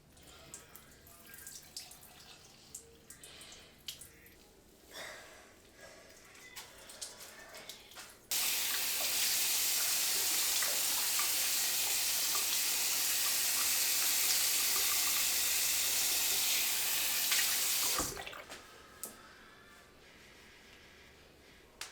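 Hair being rinsed under running water from a tap, heard as a loud steady gush that starts abruptly, runs about ten seconds and then cuts off, with quieter dripping and handling noises before and after.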